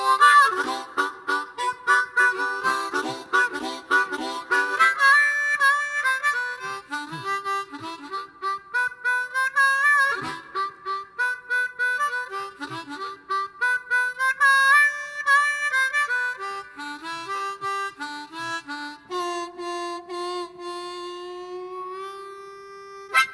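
A blues piece plays as a continuous recorded performance, with bright, wavering sustained melodic lines over steady accompaniment, loud and clear throughout with no talking.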